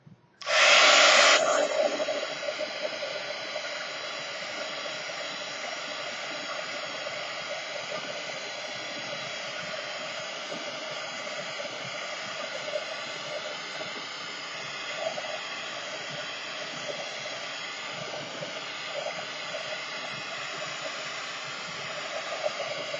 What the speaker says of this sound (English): I'm going to have to use my heat gun again.